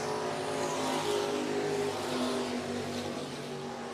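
Race car engine roaring continuously on a 105 Speedway oval during a regular race program, a steady loud drone with layered engine harmonics and slight swells as cars circle the track.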